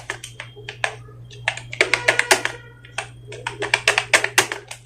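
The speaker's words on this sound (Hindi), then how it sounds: "किस उंगली से कौन सा लेटर मैं प्रेस कर रहा हूं।" Rapid typing on a computer keyboard set to the Hindi Inscript layout, with clusters of sharp, close key taps in uneven bursts over a steady low electrical hum.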